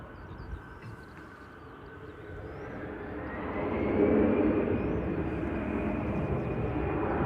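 A FedEx Boeing 777 cruising high overhead at around 34,000 feet, heard as a broad, distant jet roar that slowly swells toward the middle and holds steady.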